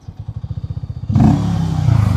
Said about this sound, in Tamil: எனக்கு இந்த எக்ஸாஸ்ட் நோட்டு பிடிச்சிருக்கு. நல்லா லவுடாக இருக்குது. ஸ்டாக்லேயே நல்ல எக்ஸாஸ்ட் நோட்டுங்க.